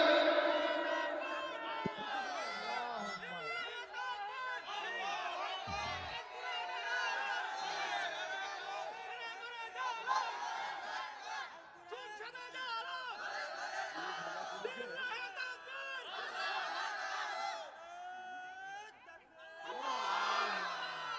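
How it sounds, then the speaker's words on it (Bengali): A crowd at a religious mahfil gathering chants takbir, loud massed voices rising and falling in repeated shouted calls with overlapping talk and babble throughout. "এ একজন একটু তাকবীর দেন তো দেখি।"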